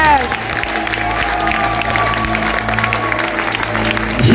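A crowd at a prophetic church gathering cheering and applauding: continuous clapping and shouting, with a voice speaking over the noise throughout.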